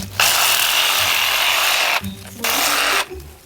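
A Craftsman V20 cordless reciprocating saw buzzes loudly as it cuts through a bundle of thorny stems, running in two long bursts with a brief pause between, then stopping.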